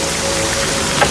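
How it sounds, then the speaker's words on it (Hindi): Steady rain falls in a dense, continuous hiss, loud and close, with a faint tonal hum running underneath. "उनके घर से निकले हुए मुझे कुछ मिनट ही हुए थे कि बारिश शुरू हो गई।"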